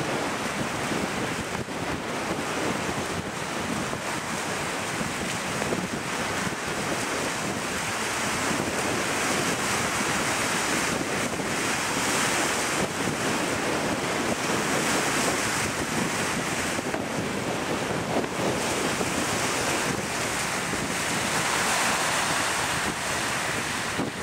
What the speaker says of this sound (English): Wind as well.